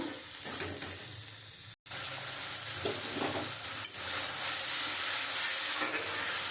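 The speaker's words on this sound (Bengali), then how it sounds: "আমি একটুখানি কষিয়ে নিয়েছি" Turmeric, chilli powder and green chillies sautéing in oil with a splash of water for a mustard rohu fish curry, a steady close sizzle with stirring scrapes and a brief silent gap early on.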